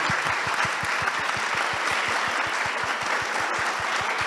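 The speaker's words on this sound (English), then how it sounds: "So huge round of applause for our participants" A crowd gives sustained applause for event participants, a steady, even wash of many hands with a faster rhythmic pattern of nearby claps running through it, and no voices.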